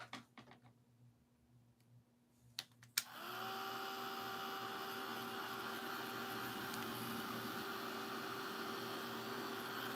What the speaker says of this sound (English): you just take your blow dryer